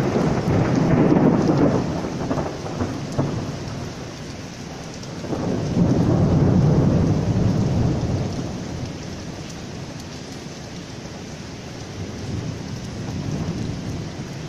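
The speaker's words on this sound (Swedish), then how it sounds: "Skönt att det regnar efter 3-4 veckor utan det." Thunder rolls over heavy rain on a summer Sunday morning in Vällingby, Stockholm, with two loud, long rumbles, one at the start and one midway, above a steady downpour that continues throughout.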